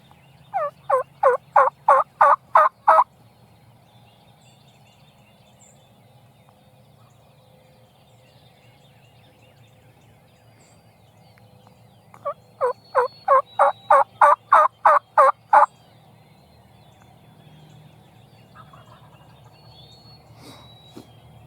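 A wild turkey gobbles in two rapid, rattling bursts several seconds apart, carrying from a short distance across quiet open ground.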